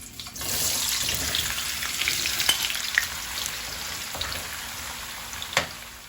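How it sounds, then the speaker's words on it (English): Potatoes dropped into hot frying oil sizzle loudly and steadily for several seconds, a dense hissing crackle with occasional sharp pops, close up and with no talk. "You should have a sizzle when you drop your potatoes into the oil."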